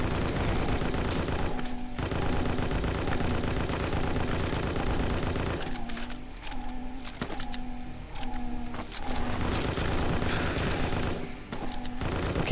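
Gunfire from the video game Strike Force Heroes plays over a continuous loud game soundtrack, with dense bursts of shots and a few sharper blasts in the middle section.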